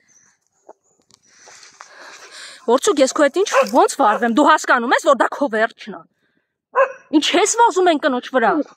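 Vorcuk the dog barks in bursts at close range, mixed in with a man's loud, agitated speech, with a short quiet pause before the barking and talking start again.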